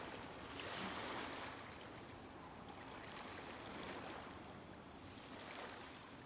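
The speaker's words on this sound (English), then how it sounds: "Time to set sail! The sound of the ocean waves." Ocean waves in the video game Genshin Impact wash steadily as a faint, broad surf hiss, swelling gently in a few soft surges with no voices present.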